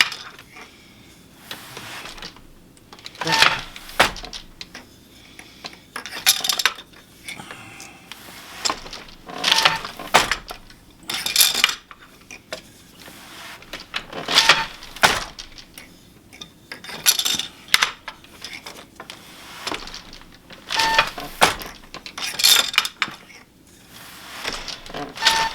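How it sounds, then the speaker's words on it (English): Wooden floor loom on first use with a TempoTreadle, its warp being advanced: repeated clacks and ratcheting clicks of the pawl and beam in irregular bursts, fairly close and loud, with quiet stretches between. "I'm going to stop just a second and advance the warp a little bit"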